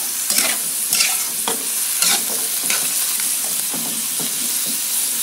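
Pumpkin and tomato stir-fry in a hot pan with broth, a loud continuous sizzle punctuated by several sharp spatula scrapes and stirs, up close and without voices.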